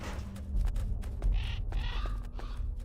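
Crows caw several times in short, harsh calls over a low rumbling game background in Metal Gear Solid: The Twin Snakes on GameCube.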